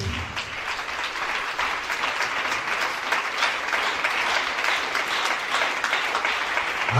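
A church congregation applauding, a dense, steady wash of clapping from many hands that holds evenly throughout, fairly loud and close.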